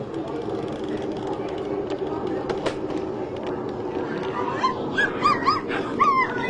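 A child playfully imitates a dog's barking and whimpering during cousins' indoor play, yelps rising toward the end over a steady background hum, with other children chattering nearby.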